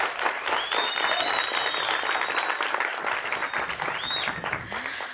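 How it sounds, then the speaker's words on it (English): A crowd claps loudly and continuously, dense applause filling the whole stretch with a few whistles cutting through. "Leaders, give them a round of applause,"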